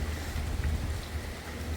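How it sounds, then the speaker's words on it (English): Steady rain falls during Hurricane Milton on the Florida coast, a continuous broadband wash of drops with low rumbling wind, moderately loud and unbroken, with no talking. "It is rainy."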